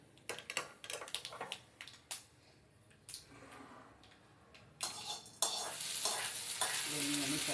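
Chutney tempering with curry leaves in a hot pan, at first intermittent clicks and stirring, then a loud steady sizzle that rises sharply and holds close up to the end, with no talking.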